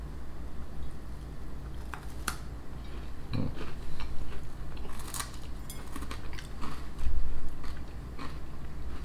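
A coconut and stem ginger biscuit is bitten and chewed close up, giving sharp crunchy snaps followed by irregular crumbly chewing, with steady background hum and no talking.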